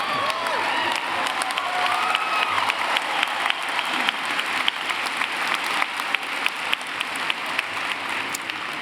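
Audience applause at a 2017 university commencement ceremony, a sustained wash of clapping from a large crowd with some cheering, voices talking underneath and sharp individual claps standing out, continuing evenly for nearly nine seconds.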